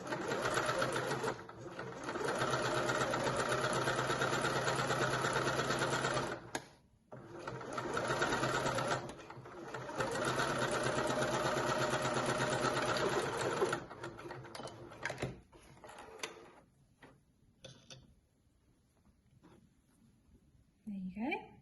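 A sewing machine stitches a dress pocket seam in long, steady whirring runs with a couple of brief pauses, close and clear, before trailing off into quieter handling noises.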